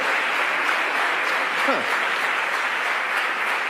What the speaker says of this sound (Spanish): Como aplauden, aleluya